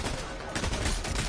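Rapid bursts of gunfire in a video game, shooting at a ghost, crackle continuously and loudly through the short moment with no pause.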